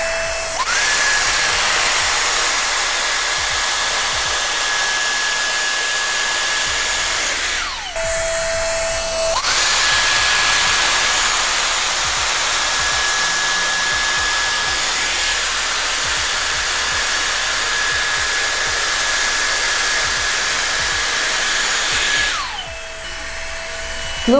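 Dyson Airstrait hair straightener running on its cold setting, a loud steady blowing whine with a high tonal note that cuts out briefly twice and resumes, alone without talk.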